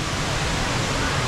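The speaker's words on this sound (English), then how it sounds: "We're now at the bottom of the waterfall." Rain Vortex, the tall indoor waterfall at Jewel Changi Airport, heard from its base as a steady, loud, broadband roar of falling water that fills the space without a break.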